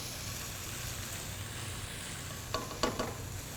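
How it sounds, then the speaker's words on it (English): Finely minced shallots sizzle in olive oil in a hot pan, a steady crackling fry that holds throughout, with a few sharp stirring or scraping clicks near the end. "And you can hear that sizzle, right? That's what we want every time"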